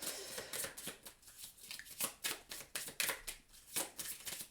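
Tarot cards being shuffled, a quick, steady run of crisp riffling slaps, close and fairly loud, with no speech over them.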